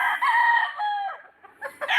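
A Verdugo Blue Face hatch gamefowl rooster crows loudly and close by in one drawn-out call, followed by a couple of short clucking notes.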